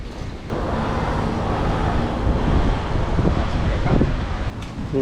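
Wind sweeps steadily along the seashore at Bang Saen, a continuous broadband rush buffeting the microphone for the whole stretch, with faint voices murmuring beneath it.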